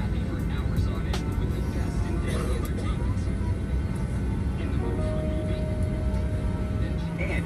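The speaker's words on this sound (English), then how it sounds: "We would have a rather short taxi over to runway 34 right for our departure today." A United Boeing 737-900ER taxiing out at Denver toward runway 34 right, heard from inside as a steady broadband engine rumble and hiss, continuous and fairly loud, with a faint tone entering partway through.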